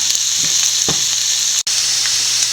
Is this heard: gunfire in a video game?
no